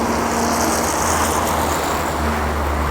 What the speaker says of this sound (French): Et là vous avez un fort trafic.